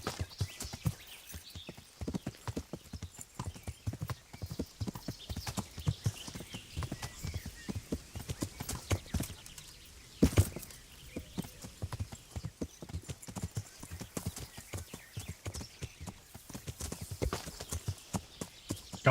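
Horse hooves clip-clop in a steady, rhythmic trot in a video game, continuing quietly and evenly throughout with one brief louder thump midway.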